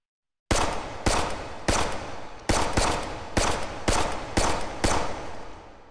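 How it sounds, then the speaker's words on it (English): A GI-style M1911A1 pistol with steel frame and worn grips fired in the VR shooter H3VR: eight loud, sharp shots spaced about half a second apart, each with a short ringing decay, and no talking. "the M1911 here, GI style, with the sort of steel and sort of worn hand plates there. Let's fire this off."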